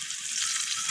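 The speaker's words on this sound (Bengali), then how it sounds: "তো এরপর ওই একই তেলের মধ্যে দিয়ে দিলাম দুটো তেজপাতা আর কেটে রাখা পেঁয়াজগুলোকে।" Bay leaves and chopped onions dropped into hot oil after frying kohlrabi, giving a dense, steady close-up sizzle throughout with no voices.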